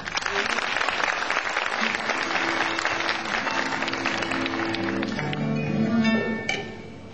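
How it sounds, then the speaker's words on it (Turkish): Audience applause for a Turkish classical music choir at a municipal honor concert, a dense, steady clapping from a full hall that fades out near the end. "Alkışlarınız Sayın Şefimiz Niyazi Sevinç ve koromuz için"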